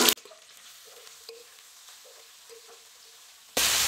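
Leftover cooked rice tempered with curry leaves being stirred in a pan over a medium flame, giving a soft, steady sizzle with faint scraping strokes up close and no talk.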